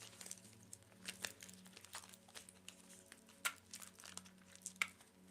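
A tarot card deck being shuffled during a live reading, giving a run of crisp papery riffles, rustles and snaps over about five seconds, close and fairly quiet, with no talk.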